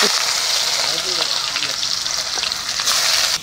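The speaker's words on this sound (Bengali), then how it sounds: "আমি পেঁয়াজগুলো লাল করে ভেজে নেব" Cumin and onions fry in hot oil in a kadai with a loud, continuous sizzle and light crackle, close up, a voice speaking faintly beneath it.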